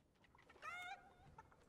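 Chicken clucking in a battle royale game, used as a glider; a single short, clear squawking cluck over a quiet background.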